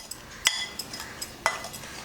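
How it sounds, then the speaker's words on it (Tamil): A metal spoon clinks and scrapes against a pan as sugar is added and stirred into a sweet made with roasted gram dal and cardamom, with a few sharp taps amid soft scraping, close by. "ஏலக்காய் போட்டுட்டு இப்போ சுகர் ஆட் பண்ண போகிறேன்"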